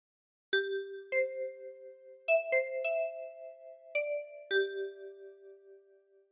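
Six plucked notes on a ten-key kalimba form a slow phrase of Amazing Grace, each bright, bell-like tone ringing into the next, clear and close with no voices.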